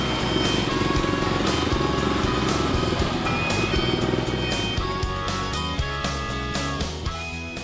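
Jawa 350 OHC Special motorcycle with a Honda XR400-derived single-cylinder engine, riding at speed with a loud, steady, throbbing exhaust note heard close up over wind rumble, no talk.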